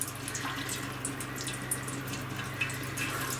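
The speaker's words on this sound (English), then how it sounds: "I'm kind of just guiding the water into the pan instead of going all over the floor" Water from a rain harvester filter, clogged and overdue for a change after a fire, runs and splashes steadily into a pan, a continuous close gush with small drips and splatters throughout.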